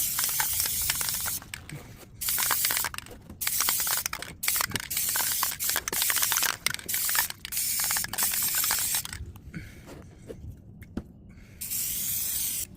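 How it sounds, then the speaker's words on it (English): Rust-Oleum outdoor fabric spray paint hisses from an aerosol can in repeated bursts of a second or two, close and fairly loud, broken by short pauses and the rattle of the can. "I am going to use Rust-Oleum outdoor fabric paint. It's spray paint, but it's UV resistant."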